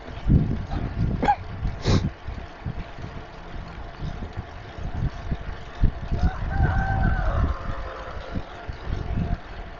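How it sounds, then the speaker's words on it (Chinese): Chickens kept by farmers beside Tongsha Reservoir in Dongguan: a faint rooster crow rises briefly in the middle, nearly buried under steady wind and riding rumble. "这里还有农民养鸡嘛？"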